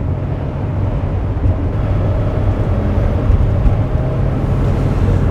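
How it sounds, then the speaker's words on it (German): A 1979 Mercedes 450 SEL 6.9 accelerating on the Autobahn, with a steady, loud engine and road roar that holds throughout and no voices. "Aber die Art, wie er hier hochzieht und beschleunigt, also das ist echt beeindruckend."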